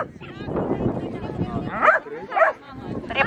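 Several dogs bark, yip and whimper outdoors in a lively group, short sharp bursts overlapping each other, with people talking among them.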